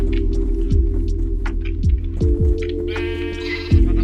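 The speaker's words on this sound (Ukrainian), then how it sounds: "Гей, вівця." Sheep in Minecraft bleat several times, loud and close, each call a short wavering cry, over a steady low game drone and a soft melodic background tune.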